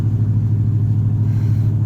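Deep, droning exhaust rumble from a loud modified Dodge Charger cruising through town, steady and close for a couple of seconds with no voices.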